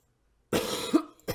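A single sharp cough comes after half a second of silence, close and fairly loud, followed by a brief breathy catch and then a second, shorter cough.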